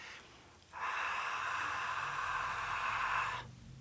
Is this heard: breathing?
yes